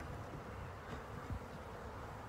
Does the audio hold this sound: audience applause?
no